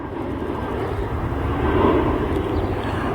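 A Delta A321 airliner inbound from Atlanta, a broad steady jet roar that swells slightly toward the middle before easing off, heard from a distance.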